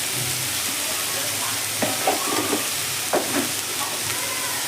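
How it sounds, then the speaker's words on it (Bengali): Spices, chopped tomato and boiled chickpeas stirred in a frying pan, giving a steady soft sizzle with a few scraping strokes of the spatula, close and alone. "সমস্ত কিছু দিয়ে আবারও নেড়ে নেব।"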